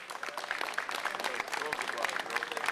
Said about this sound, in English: it has to be short-lived claps